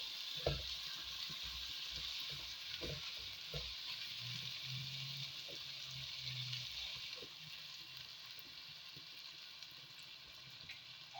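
A soft, steady sizzle of potatoes and peas frying in a pan with water, with occasional light clicks and stirring knocks, faint and continuous without speech.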